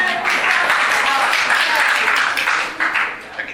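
Audience applause and clapping break out at a La Grange, Illinois plan commission meeting, a dense broad wash of hands that swells and stays steady for a few seconds before tapering off near the end.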